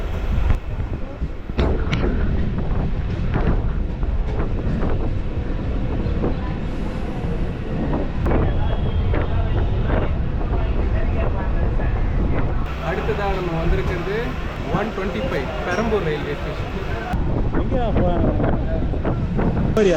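A Chennai suburban electric train running between Perambur Carriage Works and Avadi, a continuous loud rumble and rattle with wind buffeting the microphone and someone narrating over it throughout.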